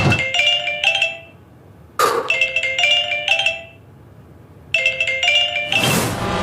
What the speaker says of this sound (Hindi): अब मुझे फोन आ रहा है